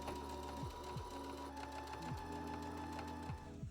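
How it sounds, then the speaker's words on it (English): Close, steady whirring hum of a sewing machine stitching a fabric seam with a 3/8 inch seam allowance, its motor pitch dipping several times as the sewing speed shifts, quiet and without speech. "we're going to take our work back to our sewing machine and sew that seam together"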